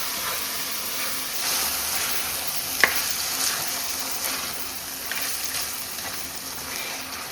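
Cooked goat meat fried down in a pan until its thin gravy dries, giving a steady sizzle and stir with a sharp clink partway through, close and continuous without talk.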